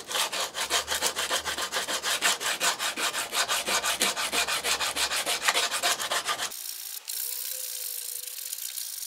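Sandpaper rubs across a hand-carved wooden bowl in quick rhythmic strokes, close and scratchy, followed by a short pause and a quieter, smoother hum at the end.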